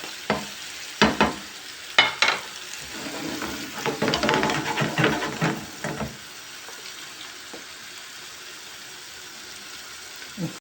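Onions frying with spices for a karnıyarık filling in a home kitchen: stirring scrapes and sizzling near the pan, in short bursts and then a steadier stretch, fading to quiet for the last few seconds.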